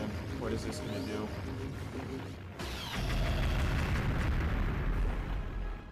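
Loud effects from 7th Dragon III Code: VFD: a sound cannon attack's booming blast followed by a sustained roaring burst of noise, with a voice speaking over it.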